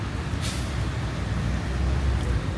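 A bus air brake lets out a bright hiss at a bus station, a short burst early on over the steady low rumble of idling engines and traffic, with a second fainter hiss near the end.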